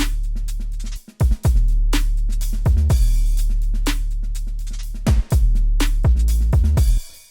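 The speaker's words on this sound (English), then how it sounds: "These are my trap drums and they sound like this." Heavy trap beat with deep booming 808 bass hits and sliding low notes, crisp hi-hats and snappy snares, loud and punchy with no talking.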